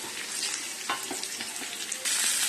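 Chicken stock poured into a hot frying pan with scrambled egg, bok choy and fried meatballs, giving a loud steady sizzle and bubbling with a sharper burst near the end, no voices.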